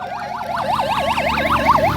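An ambulance siren wails loudly and close at a 10 km marathon in Canning, India, its pitch sweeping rapidly up and down in a steady, repeating warble.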